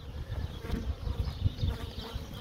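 Honeybees buzz steadily around hives during a spring inspection of about a dozen colonies, a dense, continuous outdoor drone close by with no voices.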